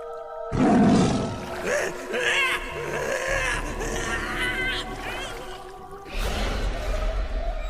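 A tiger roars in a tale of a boat in danger, a loud low growling burst near the start followed by wavering tonal cries and rumbling under a busy, layered sound bed.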